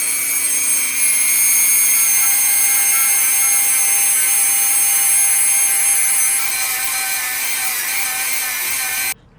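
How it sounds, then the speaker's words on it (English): A Dremel rotary tool with a polishing pad and red polish works on a brass knife bolster, a steady high-pitched motor whine close by that holds evenly for several seconds and then stops abruptly. "I'm about to use a Dremel with a polishing pad and the red polish to polish the brass."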